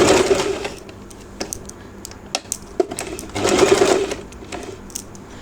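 Sewing machine stitching the neckline of a gathered frock, running in loud bursts of rapid needle clatter separated by quieter pauses and small clicks, with no talk over it.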